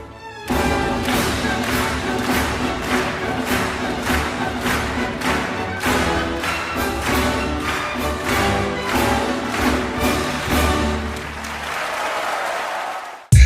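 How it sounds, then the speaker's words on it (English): An audience claps hands at a performance: steady, dense clapping that starts abruptly and carries on loudly for about thirteen seconds, with a musical tonal layer running underneath before cutting off at the end. "Everybody clap your hands."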